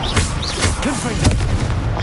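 Confringo blasting spells go off in Hogwarts Legacy as a string of loud, punchy booms mixed with game effects, while a voice talks over the explosions throughout.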